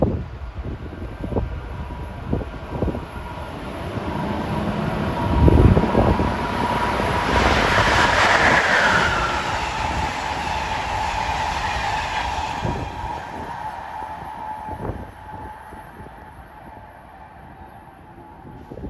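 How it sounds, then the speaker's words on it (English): Amtrak train 176, running from Roanoke, Virginia to Boston on the Northeast Corridor at Linden, New Jersey, rushes past at speed, its roar swelling loudly near the middle and fading away, with clicks of wheels over rail joints throughout. "approaching at 2:53 p.m. is another one of those Amtrak Virginia-related trains. 176 from Roanoke, Virginia to Boston"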